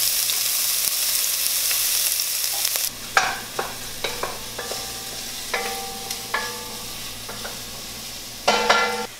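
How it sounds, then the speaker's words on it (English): Onions sautéing in a pan as the base for a fish stew, a steady sizzle running throughout with intermittent scraping and stirring clinks from a utensil, fairly close, no voices. "to start off our fish stew, we're gonna saute some onions."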